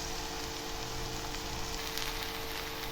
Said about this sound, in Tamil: கடுகு வெந்தயம் காஞ்ச மிளகாய் நீங்கள் எண்ணெய் ஊற்றாமல் நீங்கள் வறுத்துக்குங்க